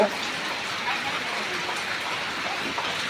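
Steady morning rain falling outdoors, a continuous broadband hiss of drops that stays even and moderately loud throughout without pauses.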